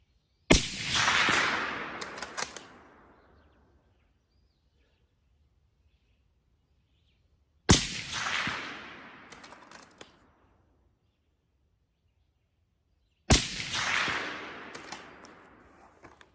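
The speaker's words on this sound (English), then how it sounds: "Nice thing about shooting with the suppressor" Three suppressed rifle shots ring out at a range on a hot day, each a sharp crack that trails off in a short echoing decay, spaced several seconds apart.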